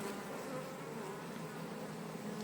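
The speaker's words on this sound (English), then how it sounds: "Bees are beginning to get a little bit annoyed with me." Honey bees buzz in a dense, steady drone at an opened beehive, close up and continuous, with no voices.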